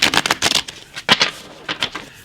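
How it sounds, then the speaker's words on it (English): A deck of tarot cards is shuffled up close, with quick riffling bursts of crisp card flutter separated by short pauses. "Let's shuffle, and then we'll pull cards for your person, okay? We'll shuffle what's remaining in the deck."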